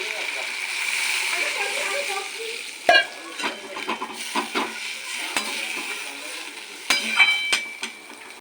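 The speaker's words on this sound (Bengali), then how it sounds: "সর্ষেটার মাছটা কষানো হয়ে গেছে এবার আমি একটু জল দিয়ে দেবো" Water is poured into a pan of mustard pomfret fish curry, giving a splashing, bubbling sizzle with intermittent stirring clatter and a few sharp knocks against the pan.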